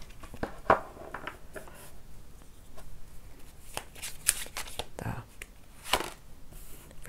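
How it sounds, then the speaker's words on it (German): Tarot cards are shuffled by hand in quick, soft riffling and patting bursts, close and quiet, with faint whispery sounds in between. "Ich muss noch mal mischen."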